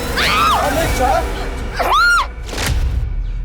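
A woman screams loudly in a TV crime drama, two rising and falling shrieks cutting through tense background sound with a thud between them.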